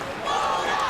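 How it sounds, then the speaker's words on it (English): Stadium crowd at an Australian football match inside the roofed Docklands Dome roaring and cheering in a dense, loud wall of sound that swells briefly. "Good crowd in here at the Dome."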